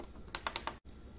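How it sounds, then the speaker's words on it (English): Keystrokes on an older computer's keyboard while entering a Wi-Fi password for an Epson XP-440 printer, four quick distinct clicks followed by a brief silence and quieter tapping. "when you're finally done typing it in, which may take a while"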